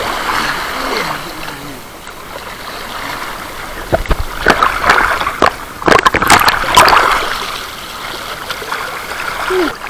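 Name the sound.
strong river current flowing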